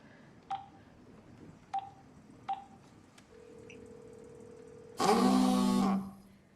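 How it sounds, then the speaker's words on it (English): In a quiet attic, a phone sounds a few sharp key clicks and then a steady dialing tone, followed by a loud, buzzing, ringing burst that stops abruptly. "Grabbing the phone, she makes a call."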